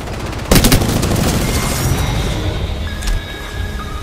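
Gunfire in Apex Legends during the final squad fight: a loud burst of rapid shots near the start, then a steady rattle of fire and booms, with a smaller burst later.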